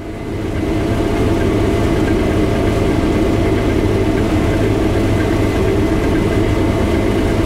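A combine harvester cuts a full swath of wheat in a field, giving a loud, steady, droning engine rumble that swells up in the first second and then holds constant with no talking.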